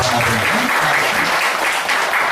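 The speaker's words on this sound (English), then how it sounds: "Our applause for our honors people" Loud, dense applause from an audience at a product demonstration event, steady throughout with a few voices faintly audible underneath.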